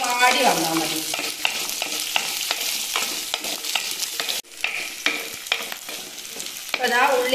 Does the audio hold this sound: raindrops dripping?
no